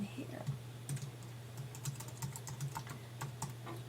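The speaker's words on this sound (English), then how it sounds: "all you have to do is type in the email and then their permission level" Quick bursts of keystrokes on a computer keyboard, fairly faint and close, with light clicks in uneven clusters over a quiet room.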